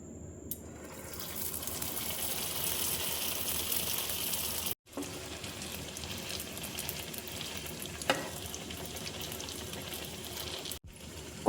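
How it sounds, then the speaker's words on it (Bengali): Milk bread dough sizzles and crackles in hot oil in a frying pan, a loud, continuous fry with two brief cuts in the sound. "এবার আমি তেলের মধ্যে ছেড়ে দেবো।"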